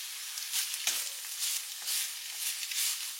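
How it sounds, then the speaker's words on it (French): Onions and carrots fry in oil in a pan over medium heat, giving a steady close sizzle with a few brief stirring scrapes and no voices. "J'ai mis un filet d'huile dans ma poêle et sur feu moyen, je vais faire rissoler les oignons."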